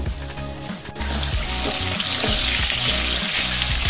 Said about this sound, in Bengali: তো আমি এখন আলুগুলো একটু কষিয়ে নিচ্ছি